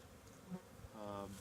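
A steady insect buzz of many honey bees leaving a nucleus colony box swells in the second half, a close hum with faint rustling before it.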